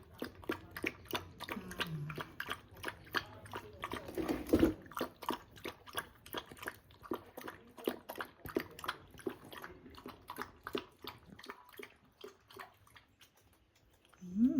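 A dog laps water in quick, steady wet slurps, close and fairly quiet, with a brief clatter midway and a short pause near the end.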